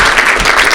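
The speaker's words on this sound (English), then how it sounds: "Give Javier a round of applause." Audience applause fills the room at a live chiropractic event, a dense, steady wash of clapping with no break, close and loud throughout.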